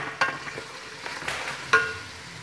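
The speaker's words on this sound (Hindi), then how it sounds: "हमने फूल गोभी डाल दी है" Cauliflower and green chilies frying in a pan, with soft sizzling, a few sharp clinks of a spoon stirring against the pan, and quiet scraping between them.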